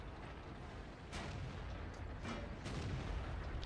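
An IS-6 heavy tank in the World of Tanks video game fires its main gun, with a few booming cannon shots over a constant rumbling battle-noise bed.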